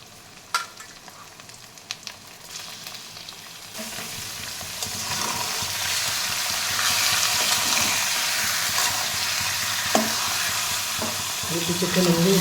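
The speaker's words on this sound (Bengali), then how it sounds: "5 থেকে 7 মিনিট আমি মাংসটাকে ভেজে নিলাম" Chicken pieces fry in a pan over browned onions, starting with a few clatters and then bursting into a loud, steady sizzle with stirring scrapes throughout.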